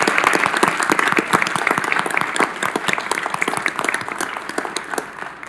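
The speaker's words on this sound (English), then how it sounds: "Let's give them a round of applause, please." Audience applause at a city council meeting in Knoxville, a steady, dense crowd of many hands clapping throughout, fairly loud and close, tapering slightly at the end.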